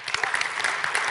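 Conference audience applauding, a dense steady burst of many hands clapping close by, lasting about a second.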